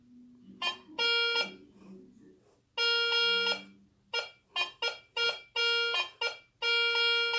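A metal detector sounds a run of electronic tones as it passes over test material, giving sharp sustained beeps and short pulses in an irregular sequence, loud and close against a quiet background.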